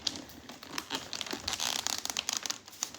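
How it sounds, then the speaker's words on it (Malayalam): Birthday gift wrapping crinkles and rustles steadily as the present is unboxed, a close, busy run of crackly paper or plastic sounds with no talking. "അപ്പം ഞാൻ നമ്മളെ ഗിഫ്റ്റ് അൺബോക്സ് ചെയ്യാണ്."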